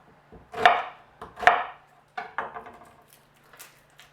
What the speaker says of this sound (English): We chop up 2 medium onions, or 3 small.